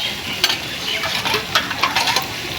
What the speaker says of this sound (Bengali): কষানো হয়ে গেছে আমি জল দিয়ে দিই